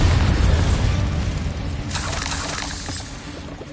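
A Bombarda spell explosion in the Hogwarts Legacy video game: a heavy booming blast that rolls off, then a brighter crackling burst of debris, loud and close.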